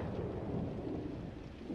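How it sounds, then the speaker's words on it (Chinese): Low, rolling thunder rumbles steadily under a wash of rain, heavy and continuous for a brief moment with no voices. "呀，下雨了是吗？"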